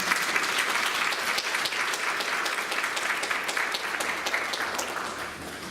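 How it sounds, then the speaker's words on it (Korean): A church congregation at a revival service applauds in a dense, sustained wash of clapping that stays loud and even throughout, with no speech over it. "다시 한번 우리에게 은혜를 허락하신 하나님께 영광의 박수를 드리도록 하겠습니다."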